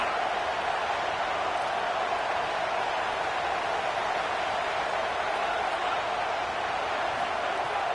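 Stadium crowd roar in an NCAA football video game, Texas versus USC, as fans make noise behind the defense on third down: a steady, dense wash of crowd noise with no breaks, loud and unchanging throughout.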